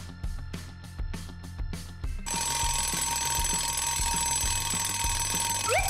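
An alarm clock rings at wake-up time, first in a few short loud bursts, then in a continuous shrill clanging that fills the rest of the stretch.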